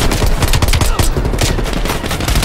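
Rapid automatic gunfire in Call of Duty: Black Ops Cold War, played on PS5: loud, dense bursts of shots fill the whole moment with no pauses.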